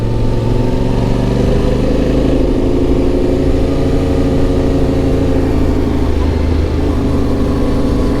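A 2025 Yamaha Tenere motorcycle climbing a narrow single-lane mountain road, its engine droning loud and close with a steady low hum and gradually shifting pitch as it pulls uphill, wind rush layered over it, no talking.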